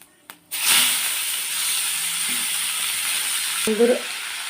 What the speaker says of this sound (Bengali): আমি দেব শুকনো লঙ্কা গরম মশলা তেজপাতা সম্বার দিলাম